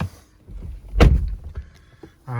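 A car door on a 2017 Jaguar F-Pace 35t Prestige R-Sport opens and shuts with a solid thud as someone climbs in, followed by faint interior clicks and a brief electronic chime, heard close up with no talking.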